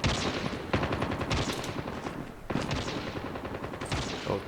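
Rapid bursts of automatic gunfire in Call of Duty Mobile, loud and close, with dense repeated volleys broken by a short pause before firing resumes to the end.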